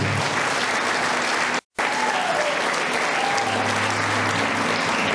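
A church congregation claps loudly and steadily, with a brief cut to silence partway through before the applause resumes.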